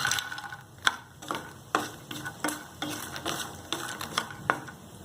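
Fox nuts (makhana) fry in a pan as a spatula stirs them, a steady soft sizzle broken by regular sharp scraping and clicking strokes, close and clear with no voices.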